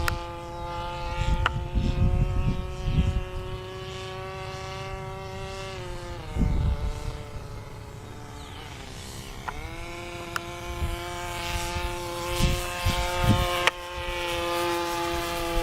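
A model Tiger Moth biplane powered by an O.S. Wankel rotary engine drones steadily overhead, its high buzzing whine rising and falling in pitch as it flies past, with wind bumps and no talk.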